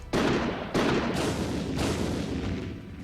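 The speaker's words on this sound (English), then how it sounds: "Van Helsing's gun goes off, setting off small explosions all around the attacker." A gunshot from Van Helsing's gun in the video game Code: Realize, setting off small explosions: two sharp loud blasts followed by a third, with booming rumble and crackle sustained between them.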